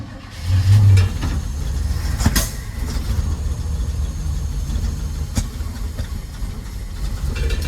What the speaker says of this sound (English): I don't understand why it's backfiring.